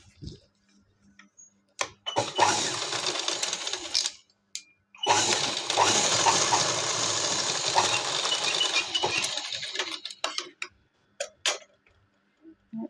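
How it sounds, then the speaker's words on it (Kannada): A sewing machine stitching a katori blouse runs in two steady, fast-rattling bursts of several seconds each, close and loud, with scattered ticks and clicks in the quiet gaps between. "ಈಗ ಇನ್ನೊಂದು ಹೊಲಿಗೆ ಹಾಕೋಣ ಇದಕ್ಕೆ"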